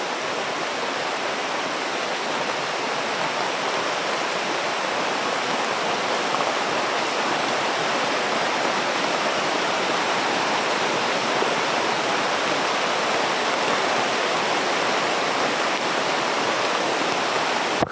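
Risen floodwater rushes like a stream in a steady, dense roar that carries on unbroken and fairly close, with no talk over it.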